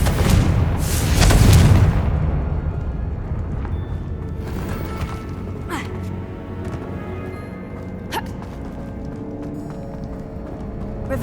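A Confringo fire spell in the Hogwarts Legacy video game bursts with a loud booming blast in the first two seconds, then rumbling game noise and a few sharp cracks follow.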